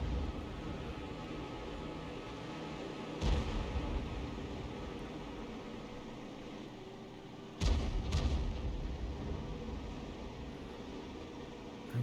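Artillery rounds land in a tank battle video game, two heavy booms a few seconds apart over a constant rumble of engine and ambient noise, fairly distant and muffled.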